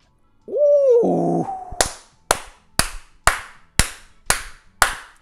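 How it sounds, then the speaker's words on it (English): Seven sharp, loud hand claps ring out close by at an even pace, each leaving a short room echo, after a brief vocal whoop and tones at the start. "I'm clapping loud"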